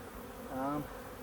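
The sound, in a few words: honeybees buzzing around a hive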